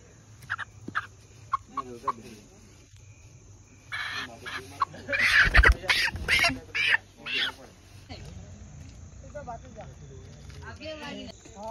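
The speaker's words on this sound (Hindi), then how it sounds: "पकड़ा है मुर्गा" A caught rooster at a bike service shop gives short squawks and clucks, with a louder flurry of calls in the middle, while people talk nearby.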